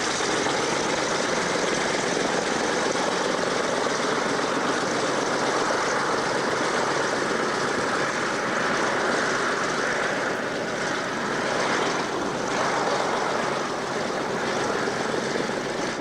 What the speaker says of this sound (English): Morris telling us about, hey, he actually flew that T6 aircraft. What a beautiful, wonderful aircraft